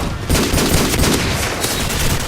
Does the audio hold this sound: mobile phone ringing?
no